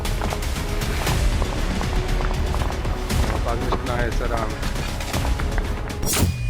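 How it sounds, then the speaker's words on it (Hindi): Dense, continuous rumble of blasts and rapid gunfire cracks from a military attack in Ukraine, with a heavy boom near the end; a voice is faintly mixed in. "यूक्रेन में आज का सूरज निकलने के साथ ही आग बरस रही थी, जगह जगह धमाके हो रहे थे।"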